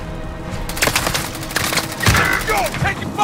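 Bursts of automatic gunfire in the video game Call of Duty: Modern Warfare, rapid cracking volleys stacking up near and loud, with brief gaps and some faint game noise between the bursts.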